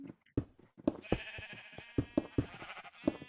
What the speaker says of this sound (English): because we got that many sheep in there